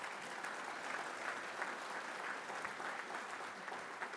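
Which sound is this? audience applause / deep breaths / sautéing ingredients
audience applause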